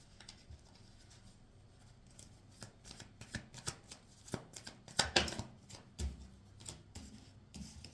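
Tarot cards being shuffled by hand, a soft close riffling and papery patter in irregular bursts that grow denser and louder midway before trailing off.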